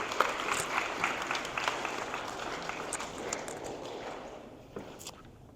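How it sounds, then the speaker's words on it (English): An audience at a senior awards ceremony claps in a dense, steady burst of applause that slowly thins and fades out, heard indoors at moderate distance. "if we can give them all a round of applause as well"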